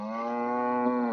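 A cartoon cow gives one long, steady, harmonic moo lasting about a second while it is held down for branding in Texas. The moo is loud and close, with no talk.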